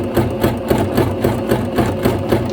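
A sewing machine stitches along a guided presser foot with a steady, fast, rhythmic mechanical chatter that stays close and even throughout, with no voices.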